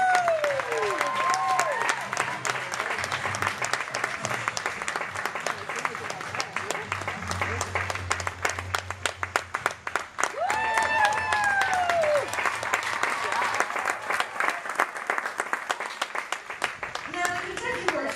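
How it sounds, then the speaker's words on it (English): Loud, sustained applause from a crowd at the Kentucky Horse Park, dense clapping throughout with a voice speaking over it at times. "another big round of applause"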